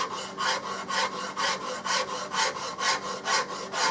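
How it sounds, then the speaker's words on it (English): A fine Nicholson pattern maker's rasp shapes a wooden rifle stock during a Remington 700 to Mannlicher conversion, with about ten even, rhythmic rasping strokes up close and no talking. "This is a really, really fine pattern maker's rasp made by Nicholson."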